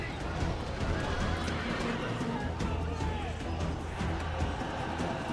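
Horses of Scythian horse archers in the Rome: Total War video game, with steady hoofbeat clatter and occasional whinnies under a dense, continuous battle din.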